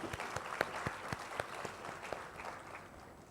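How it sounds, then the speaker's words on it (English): Audience applause at a graduation ceremony for an advanced diploma in English, a steady patter of clapping with a few sharp individual claps standing out, moderately loud and slowly thinning toward the end. "How about a big round of applause for the achievements?"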